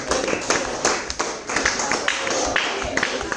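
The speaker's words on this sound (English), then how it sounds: "So let's give a round of applause for them two." A small audience claps for a presentation, a steady patter of hand claps with sharper individual slaps, moderately loud and continuous for a few seconds.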